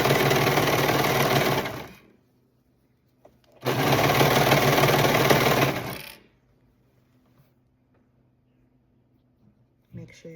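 A sewing machine stitches a stretched bottom band through three fabric layers onto a hoodie, running in two loud, close bursts of rapid whirring separated by quiet pauses.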